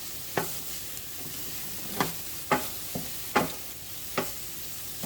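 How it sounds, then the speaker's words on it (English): Ingredients sautéing in a pan for ham and bean soup, a soft low sizzle punctuated by about six sharp utensil scrapes and taps against the pan at irregular intervals. "So we're just going to saute this just long"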